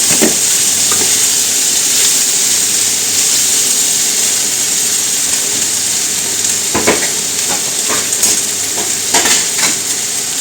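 Potatoes and Brussels sprouts sizzle steadily in a frying pan, a continuous bright hiss with a few clinks and stirring scrapes around the middle and end, no voices.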